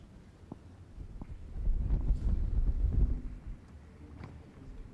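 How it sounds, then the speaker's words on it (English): Gusty wind buffets the microphones at an outdoor tennis match in Eastbourne, with flags fluttering, a low rumbling roar that swells and subsides in waves, with occasional faint thumps and no talk. "Probably hear the wind even on our microphones, and the flags, of course, are really fluttering."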